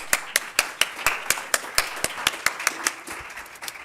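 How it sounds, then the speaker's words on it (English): Audience clapping for presenters at a wellness program, a few crisp close claps in a quick steady beat over a light wash of other hands, thinning out at the end. "So please give them a warm round of applause"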